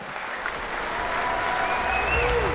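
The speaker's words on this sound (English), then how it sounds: "The crowd are really loving this." A table tennis crowd at the London 2012 Olympics applauds in a steady, sustained wash of clapping that fills the arena, with faint tonal sounds drifting over it.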